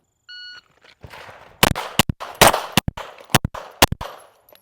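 A shot timer beeps, then about a dozen pistol shots crack in fast, uneven bursts during a USPSA shooting drill, loud and close against faint outdoor background.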